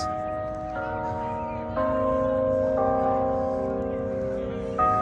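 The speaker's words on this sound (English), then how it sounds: "There's a clock that chimes." Clock tower bell chimes ring out in Las Vegas at night in a slow melodic sequence, each tone sustaining and overlapping the next, moderately loud with a low background rumble.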